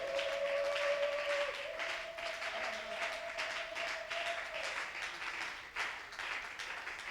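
Worshippers at a French-language prayer service clap in acclamation, a steady dense patter of many hands filling the room throughout, with a sustained held tone beneath and no clear talk.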